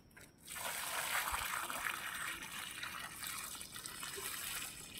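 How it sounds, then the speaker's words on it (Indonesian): Water is poured steadily onto the soil around a newly planted durian tree, a soft continuous splashing and trickle heard up close after a brief quiet start. "Nah setelah itu baru kita siram."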